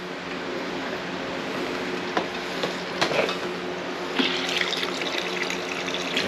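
An electric water pump sends running water for cleaning parts of a 1976 Yamaha XS650 bottom case, a steady close rush of flowing water with a few splashy bursts and no talk.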